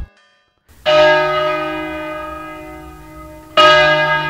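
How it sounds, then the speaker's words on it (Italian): A church bell tolls from a distant bell tower for the Ave Maria, two strong strikes with long ringing decay, the second coming about three seconds after the first. "da un campanile lontano echeggiarono i rintocchi dell'Ave Maria"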